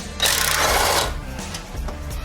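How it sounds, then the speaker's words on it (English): A power tool tightening bolts on a Jeep aluminum front bumper whirs in a short, loud burst, then runs lower with a rattling, mechanical hum; nobody speaks. "Makes it a lot easier if you have a power tool."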